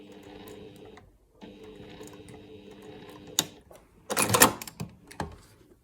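Sewing machine stitching a Y seam on a quilt block: two short runs of steady mechanical whirring separated by a pause, followed by louder clacks and rattling handling sounds.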